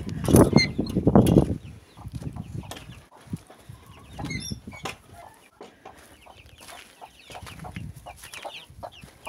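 Hens and chicks cluck and peep in a backyard, with close bursts of clucking, some wing flapping and scattered small calls that come and go.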